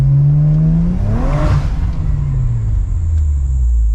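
A BMW with an N54 engine pulls hard in second gear, a loud, close engine note rising steadily in pitch as it revs up, then dipping and settling into a deep, sustained drone.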